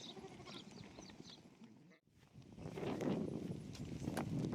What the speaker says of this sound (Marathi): निघाल्या मेंढ्या आता